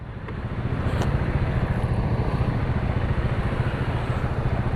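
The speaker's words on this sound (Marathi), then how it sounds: "हो खूप ट्रॅफिक आहे" Riding a motorcycle through heavy road traffic, a steady loud rush of engine rumble and wind that swells in the first second and then holds constant, with no talk.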